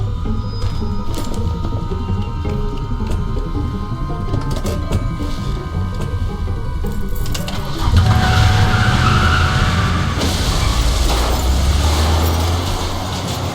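A car in The Walking Dead game peels away with a loud skidding screech and revving engine, mechanical rattles and clicks early on, then a heavier roar and tyre noise swelling from the middle onward, with no talk.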